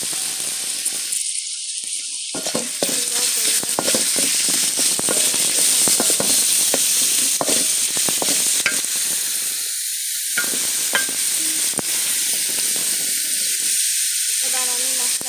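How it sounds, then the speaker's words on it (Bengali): Burger meat poured into a hot pan and frying, a loud close sizzle with crackling pops and stirring that keeps up steadily, briefly fading in short gaps. "এবার আমি মাংসগুলো ঢেলে দিব।"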